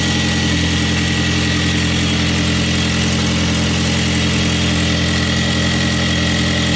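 A VW GTI engine idles steadily while its battery charges through jumper cables after a jump start. The hum is loud, close and unbroken.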